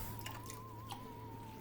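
Water squeezed from a half sponge onto a spinning Shimpo Aspire pottery wheel, a few soft wet squishes and drips close by over a steady motor hum, with no talk.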